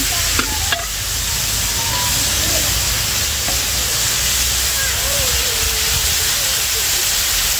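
Chicken pieces frying in hot coconut oil for a village-style chicken curry, a loud steady sizzle and hiss close up throughout, with faint stirring clinks near the start.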